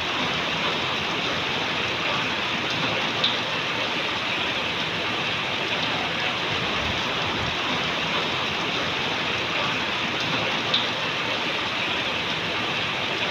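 Heavy rain pours down steadily, forming a dense, unbroken hiss that stays at the same loudness throughout, with no voices.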